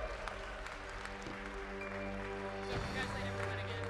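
An audience at the 2019 Alaska Robot Rendezvous Invitational Championship robotics competition gives the finalists a round of applause, heard faintly with a voice talking over it and steady background hum.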